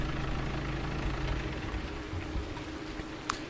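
A tractor engine idles in Farming Simulator 19 with a steady, quiet low rumble and no change in pace, heard alone.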